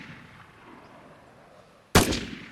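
A single sharp gunshot from the SW weapon in the video game Vigor cracks loudly near the end, ringing out briefly after quiet background hiss.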